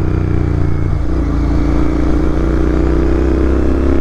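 A motorcycle engine idles loud and close, a steady low throbbing rumble that holds constant throughout with no revving.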